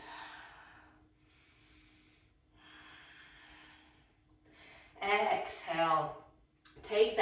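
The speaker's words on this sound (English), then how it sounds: "Breathing." Slow, close breaths during a vinyasa yoga flow, drawn in and out softly at first, then swelling into louder, voiced exhales toward the end.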